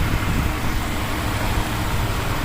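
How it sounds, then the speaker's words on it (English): A 1991 Nissan Maxima SE with a 5-speed idles roughly after a cold start, giving a loud, continuous close-up engine rumble with no breaks. "This was a cold start and the idle doesn't sound right."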